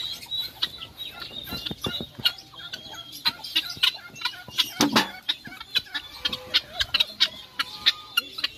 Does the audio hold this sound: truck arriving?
no